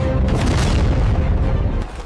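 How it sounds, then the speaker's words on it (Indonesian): Iranian missile launch: a heavy, dense boom that rumbles loudly and evenly for nearly two seconds, then drops away sharply into a fainter tail. "Saat amunisi Israel menipis, rudal-rudal paling mematikan Iran dilepaskan."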